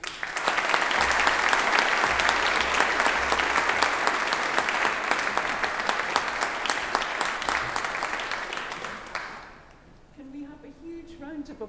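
Sustained applause from an audience at an award ceremony for postgraduate and undergraduate winners, steady and dense for about nine seconds before fading out into a quieter room with faint sounds.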